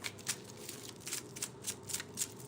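Tarot cards riffled and shuffled by hand in a quick, uneven series of soft flicks, close up with no talking.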